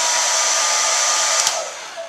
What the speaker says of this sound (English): versus the sound of the hair dryer.